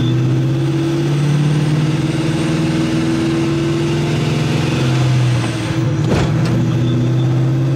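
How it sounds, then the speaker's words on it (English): A Procharged 2V Mustang GT idles with a steady, loud low engine drone, its idle air control valve adding noise. A short sharp mechanical transient cuts in near the end. "That is the good old IAC valve."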